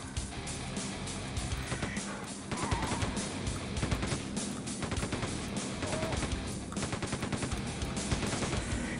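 Dense, continuous gunfire in the 1997 shooter Quake II, rapid machine-gun bursts hammering away loudly and without pause for the whole stretch.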